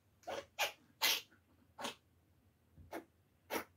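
A pet rabbit named Pumpkin, suffering from a runny nose, gives six soft, quick sneezes in an irregular series, faint and close in a quiet room.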